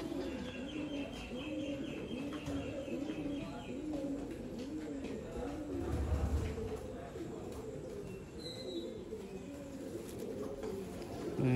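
Pure red-chidi pigeons kept at a Sialkot pigeon loft coo continuously, a steady layered murmur of many birds close by, with a few faint chirps scattered through.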